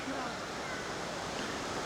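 Small waterfall at Gooseberry Falls on Lake Superior's western shore in Minnesota, heard up close as a steady, full rush of falling water that stays even and continuous from start to end, with no voices over it.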